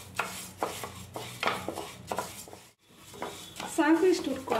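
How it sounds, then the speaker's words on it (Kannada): Moong dal dry-frying in a pan, stirred with a utensil that scrapes the bottom in repeated close strokes, with a brief pause in the middle and a light dry rattle of the lentils. "ಸ್ವಲ್ಪ ಹಸಿ ವಾಸನೆ ಹೋಗೋ ತನಕ ಫ್ರೈ ಮಾಡ್ಕೋಬೇಕು"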